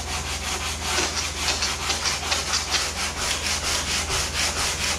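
A homemade foam-and-fabric kayak hull is sanded by hand in steady, rapid back-and-forth strokes, a loud and close scratchy rasping with an even rhythm and no talking.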